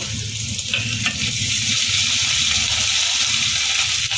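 Grated ginger is stirred into potatoes frying in a pan, with a continuous close sizzle and scraping stir strokes and a few sharper clinks of the spoon against the pan.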